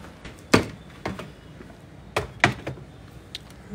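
Several short door thumps and clicks from a refrigerator being opened and handled in a home kitchen, spaced irregularly, close and moderately loud with no talk.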